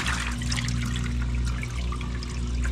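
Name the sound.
water draining from Samsung top load washing machine drum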